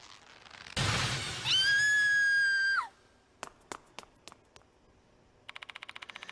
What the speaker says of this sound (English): She screamed and ran away.